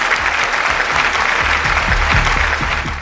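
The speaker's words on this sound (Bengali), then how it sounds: "সবার জন্য একটা জোরে হাততালি।" Audience on a Bengali quiz show clapping loudly for a correct answer, a dense, sustained burst of applause close by that tapers slightly at the end.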